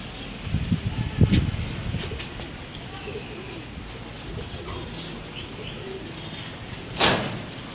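Teddy pigeons kept at home coo and call softly in short bursts, a few louder calls early on and a sharp chirp near the end, with faint talk in the background.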